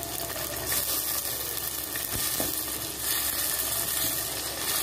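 Tomato hits a pan of frying onion and green chili for a fish curry, filling the clip with a loud, steady, close sizzle and hiss that runs unbroken throughout, with no voices.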